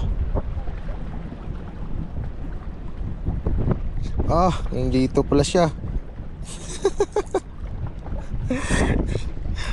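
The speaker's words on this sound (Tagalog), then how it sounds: "ang lakas ng hangin" Strong wind at sea on a small boat buffets the microphone with a continuous rumbling roar. People talk over it in bursts.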